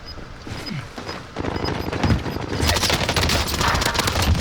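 Rapid automatic fire from the OTs 9 submachine gun in a fast-paced shooter video game, a dense, continuous rattle of shots that grows louder and steadier partway through.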